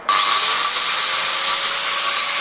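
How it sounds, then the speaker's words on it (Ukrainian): A 980 W angle grinder whirs up sharply and runs at a steady, high-pitched whine, loud and close, with no voices. "Далі пробуємо болгарку"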